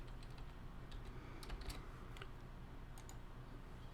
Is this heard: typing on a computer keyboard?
yes